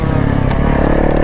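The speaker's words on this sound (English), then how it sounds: "Woo, on that 2-stroke." A two-stroke dirt bike engine holds a loud, steady, buzzing drone close by, nearly constant throughout the brief moment.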